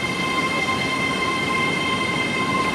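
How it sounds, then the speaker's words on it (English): A Class 801 Azuma nine-coach train at Peterborough station gives a steady, loud rail hum with a high electric whine and constant rumble, no voices. "This train is a 801, consists of"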